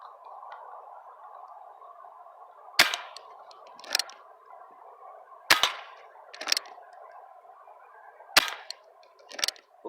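A 33-year-old Sheridan air rifle fired outdoors at a can, with sharp cracking shots at a regular spacing, each followed by a fainter report or impact, over a steady background hum.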